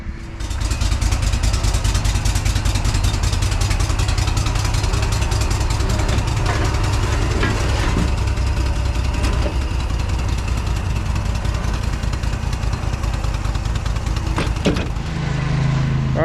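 A Panther lawn mower engine, warmed up on a cold day, idles loud and close with a steady unbroken drone and some clattering, with no one talking.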